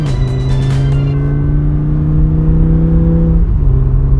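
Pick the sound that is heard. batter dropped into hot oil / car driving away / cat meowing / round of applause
car driving away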